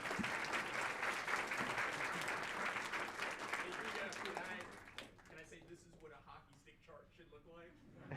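Audience applause for award recipients at a finals ceremony, a full, sustained round of clapping that thins out after about five seconds as a voice begins speaking over the fading claps.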